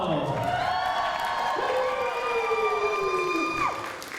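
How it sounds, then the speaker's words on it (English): A convention crowd at an Asian dance showcase claps and cheers for the dancers, with sustained applause, loud whoops and shouts that carry throughout and fade slightly at the end. "give a round of applause for our dancers here"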